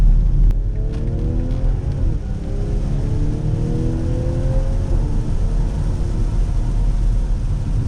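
A 2020 BMW X5 engine pulls steadily under acceleration while driving, its rising drone climbing in pitch through several gear changes over a constant road rumble, loud and close from inside the cabin, with no talking.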